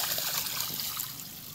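Water runs to irrigate a dry farm field, a faint, continuous trickling rush with a steady hiss and no voices.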